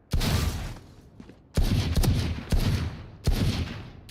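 Phantom rifle fired in Valorant, four loud sustained bursts of automatic fire separated by short pauses, close and punchy.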